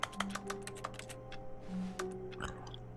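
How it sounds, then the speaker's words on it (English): Keyboard keys clack in quick, irregular bursts, triggered by clicking in the video game The Stanley Parable: Ultra Deluxe, close and fairly faint, with a low steady hum of game ambience underneath and no talk. "Clicking makes keyboard noises."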